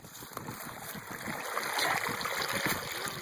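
Small waterfall stream at Carpenters Dam near Hot Springs, Arkansas, running beneath a tree, heard as a steady close rush and trickle of flowing water, slightly swelling midway with no voices.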